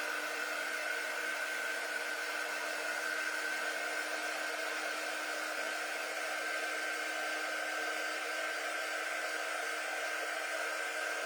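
A hair dryer blows steadily to dry a freshly applied chalk paint transfer, a constant close, even whoosh with a faint whine, running alone without pause and with no talking.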